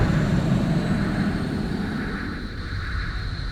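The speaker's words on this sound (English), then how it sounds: "Wait, I hear a plane again." Airplane flying overhead in PowerWash Simulator, a loud broad engine drone that is strongest at first and slowly fades as it passes, with no talk.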